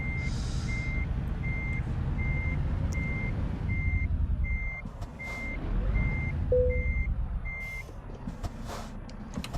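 Steady electronic reversing beeps repeat at an even pace from a truck parking in Euro Truck Simulator 2, on the Beyond the Baltic Sea map, over a constant low engine rumble, with a brief air-brake hiss near the end.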